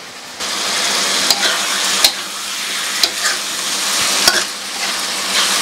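Pre-boiled chicken skin stir-fries in a hot pan with soy sauce and spices, a loud steady sizzle broken by a few sharp scrapes and knocks as the pieces are tossed.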